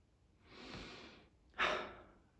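A quiet, deep breath drawn in, followed by a brief pause and a stronger, breathy exhale, close and alone with no talk.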